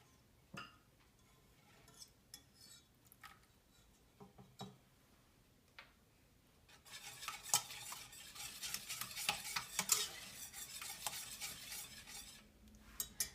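Egg yolks being whisked with vanilla in a bowl, a quiet scattered tapping at first, then a dense fast rattle of whisk against the bowl that grows louder and keeps going.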